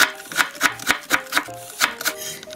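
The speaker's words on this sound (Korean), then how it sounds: "무도 채를 썰어줍니다" A knife julienning radish taps rapidly against a cutting board, about ten sharp, evenly spaced chops in quick rhythm, close and crisp with no talk.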